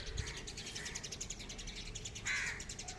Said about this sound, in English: All these sparrows are in a group.